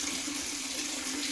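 Water running from a kitchen tap into a sink, a steady close hiss with no pauses, heard alone while dishes and cloths are being washed.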